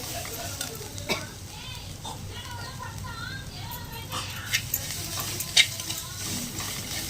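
Onions sautéing in a pan for paniyaram, a steady close sizzle broken by irregular scraping stir strokes and a few sharper clinks of the spatula, with no talking.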